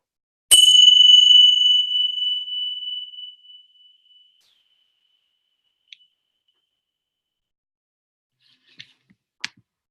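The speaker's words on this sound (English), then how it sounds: "And with the sound of the bell," A single struck bell closing a meditation rings out with a clear, pure tone that decays slowly over about three seconds, followed by faint scattered clicks in near silence.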